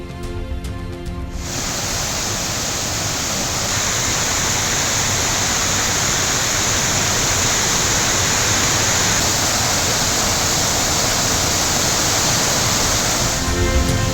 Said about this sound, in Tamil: கன்னியாகுமரி மாவட்டம் திருப்பரப்பு அருவியில் 3வது நாளாக வெள்ளப்பெருக்கு.